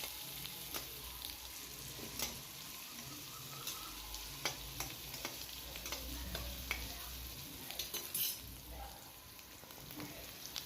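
Okra frying in a pan, half cooked, giving a soft, steady sizzle with occasional light stirring clicks throughout, quiet and close, with no voices.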